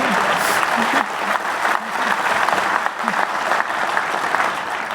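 Large conference crowd applauding during a speech by the Speaker at a legislative conference, a loud, continuous roar of clapping holding steady throughout.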